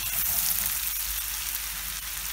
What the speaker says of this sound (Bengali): এখন ওর মধ্যে সে পেঁয়াজ কুচিগুলো দিয়ে দেব এবং এই পেঁয়াজ কুচিগুলো প্রায় 3 মিনিট ধরে নাড়াচাড়া করে